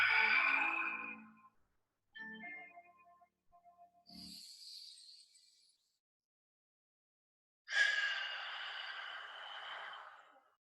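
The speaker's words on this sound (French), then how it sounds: "Inspire et expire." Breathing during a Pilates stretch for spinal mobility: a soft, close inhale and a longer exhale, separated by quiet pauses, faint and without talking.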